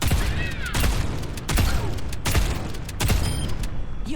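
Junker Queen's gunfire in the Overwatch 2 video game, a rhythmic series of sharp, loud shots repeating roughly every three-quarters of a second, with ringing mechanical clicks and game effects between them and no talking.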